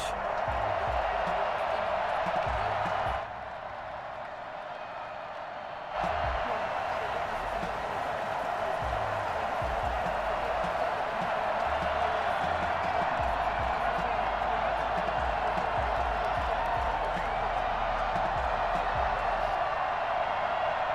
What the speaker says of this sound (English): This crowd is ready as their guys get set to match up between the Cincinnati Bengals and the Cleveland Browns.